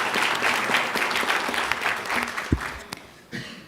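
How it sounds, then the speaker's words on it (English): A school board meeting audience gives a round of applause to an honored alternate state teacher of the year. The clapping is loud and sustained for several seconds, with a few sharp thumps and murmurs before it tapers off. "Let's give him a round of applause."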